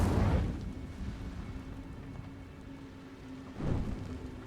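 The Incendio fire spell cast in a Harry Potter video game, a low rumbling whoosh of flame bursting at the start, fading to a murmur and flaring again near the end.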